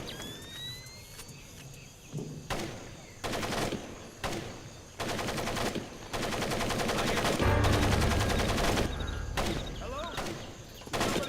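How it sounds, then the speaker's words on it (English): Bursts of rapid gunfire and single shots crackle over a steady background in Splinter Cell Pandora Tomorrow, some volleys long and sustained, others brief, mixed with faint voices. "I've got to listen to the constant gunfire"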